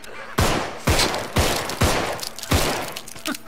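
Gunfire rings out in the zombie game Contagion, about five heavy booming shots spaced roughly half a second apart, loud and close, each trailing a noisy decay.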